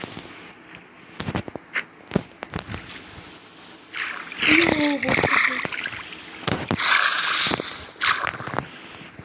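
In the Minecraft video game, water splashes while swimming, in irregular bursts that are sometimes sharp and sometimes softer, with brief voice sounds mixed in.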